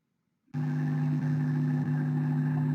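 A motorcycle engine drones in the background of an online university mathematics lecture, starting abruptly after a brief silence and then holding a steady, humming tone at moderate loudness, with no talking.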